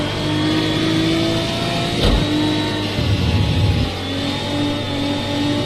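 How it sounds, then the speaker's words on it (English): A racing car's engine holds a steady, loud drone in a racing video game at Catalunya, with pitch wavering slightly and brief gear-change dips and bumps along the way. "I'm pushing this car as hard as I think I can."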